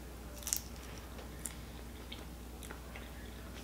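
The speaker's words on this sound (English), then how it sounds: "I wonder if y'all can hear me chewing." Close, quiet chewing of Taco Bell food, with a few soft crunchy bites and small wet clicks over a faint steady hum. No one speaks.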